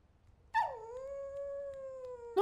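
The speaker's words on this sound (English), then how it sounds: "I want to pet the dog." A dog in the Dark and Darker video game gives one long, clear howl that rises sharply and then holds a steady tone for nearly two seconds, out of near silence, before a second howl begins at the very end.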